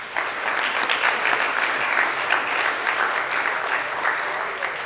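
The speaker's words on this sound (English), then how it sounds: "please give yourself a round of applause" A conference room audience at a home builders' student competition debrief gives a loud, even round of applause, sustained clapping from a crowd that holds steady for several seconds.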